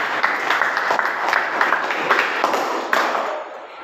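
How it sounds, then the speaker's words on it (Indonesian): A classroom of students claps together in a dense, steady burst for nearly four seconds, the clapping tapering off near the end, with no talk over it. "kita tepuk tangan untuk kalian semua ya"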